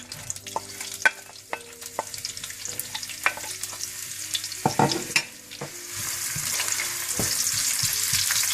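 Onions frying in half a cup of desi ghee for degi chicken biryani, with a steady sizzle that grows louder and hissier toward the end, punctuated by sharp clinks and scrapes of a spoon stirring against the pot.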